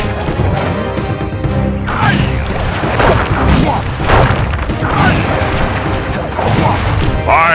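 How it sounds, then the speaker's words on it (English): Booming Chop attack impacts in the Sly Cooper video game, a string of heavy booming crashes one after another over dense game noise, loud and close. "Booming chop!"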